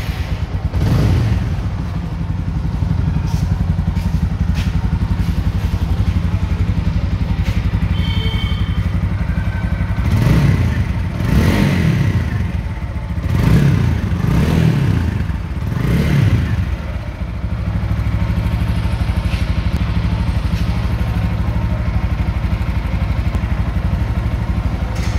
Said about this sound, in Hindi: बाकी मैं एक बार आपको इसको स्टार्ट करके जो है इसकी एग्जॉस्ट साउंड भी दिखा देता हूँ।